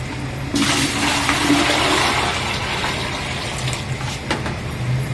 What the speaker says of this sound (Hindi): पानी भर लू मैं ड्राम में से।